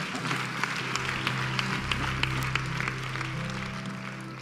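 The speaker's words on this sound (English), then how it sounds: "Can you clap for her?" An audience at a church prayer service claps steadily in a dense, continuous wash of applause, with scattered sharper claps standing out close by and no clear speech over it.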